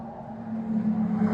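A Porsche 911 Turbo S drives past at a classic car festival in Thailand, a brief rising engine tone that swells louder as it nears.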